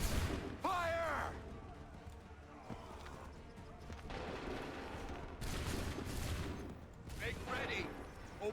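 Volleys of musket gunfire ring out in Assassin's Creed III, a thick battle din with loud cracks near the start and again around the middle, over horse hooves, while voices shout orders throughout.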